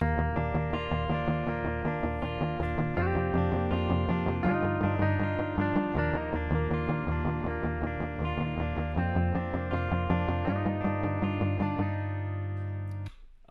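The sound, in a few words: double-tracked guitar riff panned left and right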